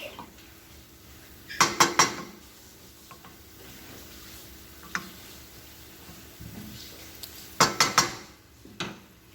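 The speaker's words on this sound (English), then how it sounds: "And now I'm gonna put my lid back on there for about 3 minutes." A lid goes back onto a frying pan of fried corn in two clusters of sharp metallic clatters and clinks, set against a soft sizzle and occasional light utensil taps.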